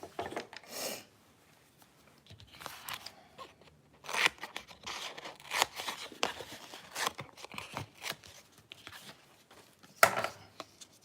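Scissors snipping through craft foam at a scrapbooking table, a series of close, crisp cuts and crunches in irregular bursts with short pauses between them.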